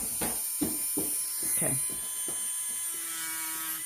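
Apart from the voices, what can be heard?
electric nail drill running during acrylic nail removal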